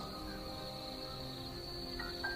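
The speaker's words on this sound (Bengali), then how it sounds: "এখনো মাঝরাতে ঝিঝি পোকার শব্দ শোনো?" Crickets chirp at night in a steady, thin, continuous drone, faint and unbroken, with no voices.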